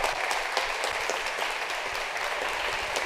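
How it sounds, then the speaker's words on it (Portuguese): An audience at a church youth and teen gathering claps in sustained, dense applause that stays loud and even from start to finish, with no speech over it. "Por favor, uma salva de palmas para Deus."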